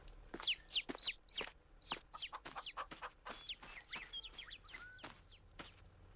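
Chickens in the video game Farming Simulator 22 cluck repeatedly in quick, uneven bursts, several birds chattering close by with short sharp calls over a quiet background.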